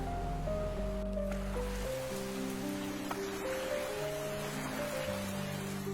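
A cartoon sound effect of a rainstorm at sea carries steady roaring rain and surging waves, a dense continuous wash layered under sustained low musical tones.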